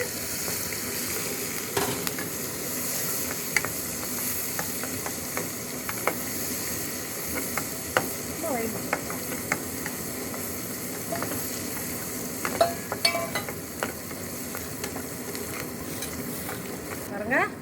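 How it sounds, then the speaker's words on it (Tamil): Onions sauté with mustard seeds in a pan, giving a continuous close sizzle and hiss broken by occasional spoon scrapes and small clinks, with no talking. "கடுகு போட்டிருக்கேங்க வெங்காயத்தை போட்டு வதக்கிக்கிட்டு"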